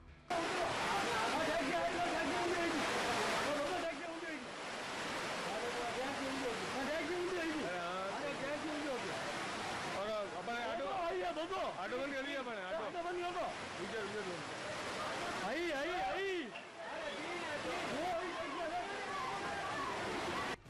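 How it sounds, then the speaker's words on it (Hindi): Floodwater rushes through city streets after heavy rain, strong enough to sweep away motorcycles, scooters and auto-rickshaws, a loud sloshing roar that stays constant while a narrator talks over it. "पानी की तेज रफ्तार में मोटरसाइकिल और स्कूटी के साथ साथ ऑटो भी बहता नजर आया"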